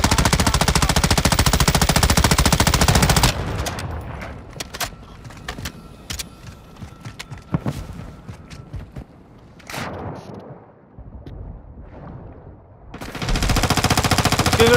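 Automatic gunfire in Call of Duty blasts loudly in long continuous bursts as players try to shoot down a target, with scattered single shots and game effects in a quieter middle stretch.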